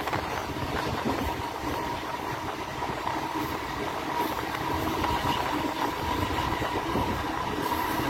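A MEMU train running between Vijayawada and Guntur gives a loud, steady rumbling roar from inside the carriage, with continuous wheel and motor noise and faint rattling, no voices.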